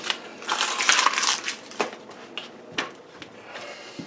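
Dry crackling and crunching as the papery skin is peeled off an onion in a kitchen, loudest in the first second and a half, then tapering into scattered crinkles and soft clicks close by.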